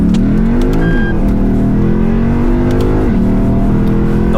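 A Lexus IS F accelerates hard from a standstill on rough tarmac, its engine roaring loud and close, climbing in pitch with two quick gear changes before pulling on strongly.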